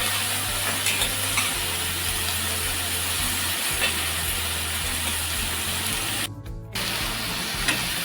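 A mixed vegetable curry sizzles and hisses steadily in a pan while being stirred, a loud continuous frying noise with faint scraping and a short dip near the end.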